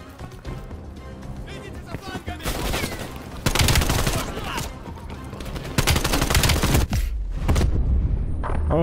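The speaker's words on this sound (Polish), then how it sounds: "nawet jest napisane, że zabiło mnie wybuch beczki" Heavy gunfire and a loud blast, fitting an explosive barrel going off during a Call of Duty: Black Ops Cold War campaign firefight, crowded with rapid shots and booms that surge loudly throughout.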